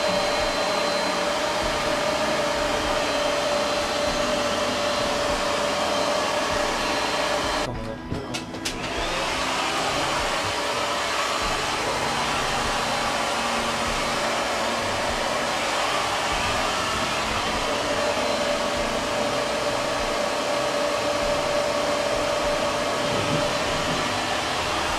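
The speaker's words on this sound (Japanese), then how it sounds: "エアレスドライヤーでちょっとここまでこう来たんですが" A hair dryer drying permed hair in a salon runs as a loud, steady close-up whoosh with a constant whine, briefly cut or muffled once before continuing unchanged, with no talk.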